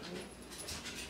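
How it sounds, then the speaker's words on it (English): A German Shepherd police dog pants quickly and whimpers softly, close by, in a brief burst of breathy sound. "but I got my German Shepherd police dog."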